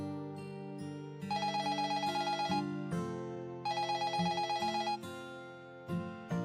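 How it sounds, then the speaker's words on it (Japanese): A fixed telephone in a hospital cleaners' staff room rings in two long bursts of bright electronic trills, separated by quieter pauses, heard alone at moderate volume. "すると、備え付けの電話が鳴った。"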